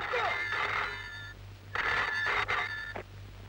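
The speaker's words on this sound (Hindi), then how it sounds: "बॉस आपका फोन" In a 1990 Hindi film, a telephone rings in two bright, close bursts with a short gap between them, clear over a faint background hum.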